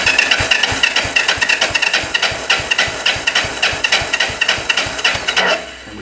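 An old Yamaha SR250 motorcycle engine cranks over without firing, a fast, rhythmic chugging pulse repeating loudly and close for several seconds before it stops, no talking.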